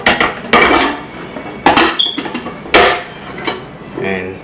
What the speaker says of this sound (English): When it clicks in there really hard, just like you just saw, that bad boy's in there.